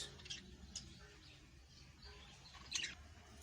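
Fischer's lovebirds in a breeding setup give a few faint, high, brief chirps over a low background hum.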